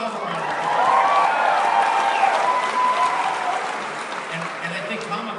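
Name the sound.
convention audience applauding themselves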